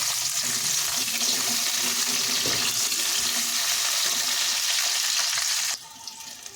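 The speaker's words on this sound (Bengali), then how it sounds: "এবার প্রথমে আমি তেলের মধ্যে বেগুনটা দিয়ে দিচ্ছি বেগুনটা ভেজে তুলে নেবো" Eggplant frying in hot oil for a Bengali chanchra made with fish heads, a steady loud crackling sizzle that runs continuously, then drops away sharply near the end.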